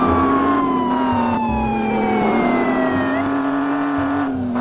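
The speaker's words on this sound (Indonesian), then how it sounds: "Wah, ini ada mobil polisi." A toy police car wails its siren in a rising and falling electronic tone, loud and close and continuous throughout, with no talking.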